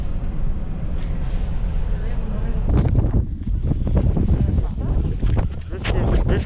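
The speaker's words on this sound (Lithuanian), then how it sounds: "Biškį vėjas pučia." Strong gusts in Iceland buffet the microphone with a low, roaring rumble that swells and drops, loud and close, with a voice heard briefly among the gusts.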